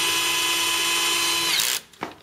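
A power drill whirs steadily as it tightens bolts on a Euro guest bed, a loud close whine that stops sharply, followed by a brief clunk.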